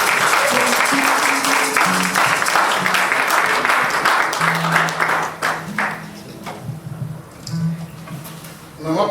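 A church congregation at a wedding blessing applauds in sustained, dense clapping that thins out toward the end, with voices calling out over it.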